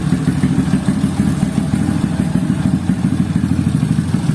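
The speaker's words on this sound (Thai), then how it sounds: "ไปฟังตอนสตาร์ทเครื่องกันเลยดีกว่า เนี่อันนี้คือตอนติดเครื่องแล้วนะ" Honda Wave 125i motorcycle fitted with a CBR250 throttle body idles close by, a steady, loud low-pitched putter with an even rapid pulsing rhythm and light mechanical clatter, heard alone without talk.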